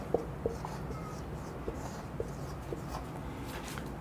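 Faint chalk or marker taps and strokes on a board during a physics lecture on charge sheets, with a few soft clicks spaced out over a quiet room hum.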